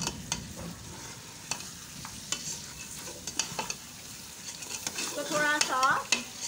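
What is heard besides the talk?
meat (gosht) frying in masala in a pot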